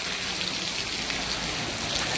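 Steady patter of rain falling on surfaces, a dense even hiss with scattered drops, moderately loud and uninterrupted.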